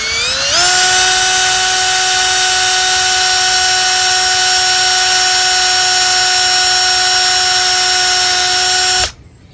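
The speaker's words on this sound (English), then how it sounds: "what I'm going to do is just drill 2 new holes" Power drill spinning at steady high speed while boring new screw holes in a pool skimmer net pole, a loud continuous whine starting up and running unbroken for about nine seconds before cutting off.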